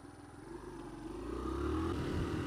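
A Suzuki VanVan 200 motorcycle engine while riding, a low thrumming putter that builds gradually in loudness as the bike pulls away, heard fairly close with no talk over it.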